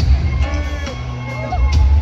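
An arena crowd at a live concert in Monterrey cheers for a band member, with loud roaring and whoops over a low rumbling hall.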